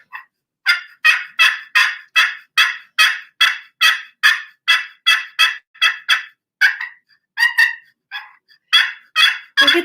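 A toy goose call blown in a long run of loud, honking bursts in a steady rhythm, close and alone, with a few broken, irregular honks near the end.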